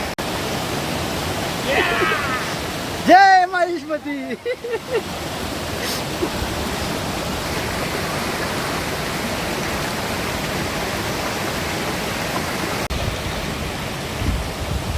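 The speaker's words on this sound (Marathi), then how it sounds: "फायनली मी आता वॉटरफॉल म्हणजे आपला धबधब्याच्या इथे आलेलो आहे मार्लेश्वरला" Marleshwar waterfall roars as a steady, broad rushing wash throughout, with a brief voice and some whistling tones early on sitting over the constant water noise.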